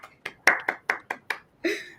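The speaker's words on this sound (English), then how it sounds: "So big round of applause" A few people at a banking and fintech summit clap sparsely, about seven sharp separate claps at an uneven pace followed by a short voice-like burst.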